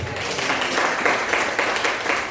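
Congregation clapping in a church service, a steady dense patter of many hands filling the whole stretch, close and fairly loud with no talk over it.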